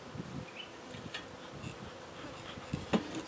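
Honeybees buzz in an open beehive, a close, wavering hum from many insects with one louder pass near the end, and nobody speaks.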